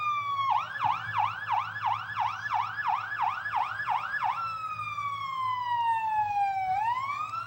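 Fire department paramedic unit sirens during Lansing's Good Neighbor Parade at Frontier Days 2008, a loud rapid yelp cycling several times then switching to a long slow descending wail, over a low engine rumble.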